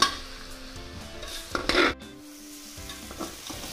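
Masala roasting in a pan for a chana sabzi sizzles steadily while a spoon stirs and scrapes against the metal, with a louder scrape burst near the middle and no talking.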